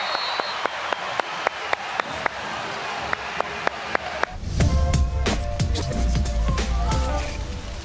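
Basketball coach Josh King of South East Melbourne clapping courtside during an NBL game, a steady series of sharp, close single claps, then a crowd roar and squeaking sneakers swelling up behind them.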